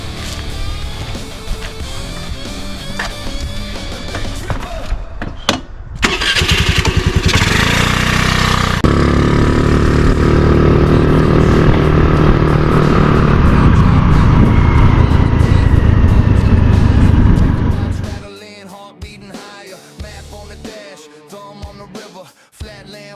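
A small Honda Navi motorcycle starts up and revs, its little engine droning loud and close as it pulls away and rides, then fading to a lower, quieter running sound near the end.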